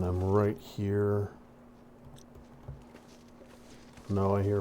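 Footsteps crunch softly in the survival video game The Long Dark, a few muffled thuds in the gap between stretches of someone talking, with a faint steady hum beneath.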